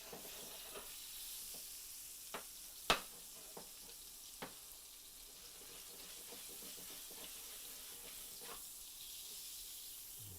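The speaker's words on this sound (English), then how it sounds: "Let that get the heat so it'll start sizzling." Butter sizzles in a hot pan with a quiet, steady hiss, punctuated by a few sharp clicks and taps of a utensil, no talking.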